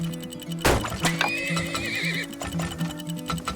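Horses whinnying loudly with a long, wavering neigh, preceded by a sharp thud and mixed with hoof clops and a low droning tone behind.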